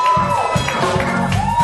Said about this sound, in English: Let's give a big applause.